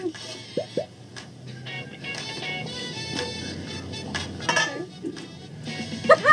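Dishes and cutlery clink and clatter as plates are set down on a table, with quiet voices talking in the background.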